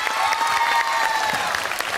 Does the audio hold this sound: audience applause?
yes